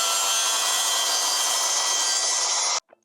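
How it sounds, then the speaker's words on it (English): A track saw cuts through wood to enlarge joints on a wooden dog bed frame, a loud, steady, close rasping whine running continuously before stopping abruptly, followed by a couple of faint small knocks. "I think I will run the track saw, and I will basically enlarge most of these joints."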